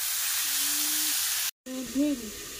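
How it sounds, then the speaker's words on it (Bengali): Onions with bitter gourd and potato frying in a wok, a steady close sizzle and hiss with a brief silent gap, while a voice hums or speaks faintly over it. "এখানে কড়াইতে পেঁয়াজ দিয়ে দিয়েছি, আর এই উচ্ছে আলু ভাজাটা দিয়ে দেবো।"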